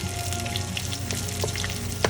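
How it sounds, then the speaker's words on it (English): Onions crackle and sizzle steadily in a hot pan for a dal chicken curry tadka, a continuous close frying hiss dotted with small pops and one sharper spatter near the end. "I'm now going to add the leftover onions that I kept aside and cook this till it becomes a nice crisp brown"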